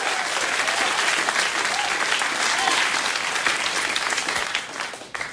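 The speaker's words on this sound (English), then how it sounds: "Why did you applaud that?" A large late-night TV studio audience applauds steadily, a dense wash of clapping that holds strong for several seconds before tapering slightly at the end.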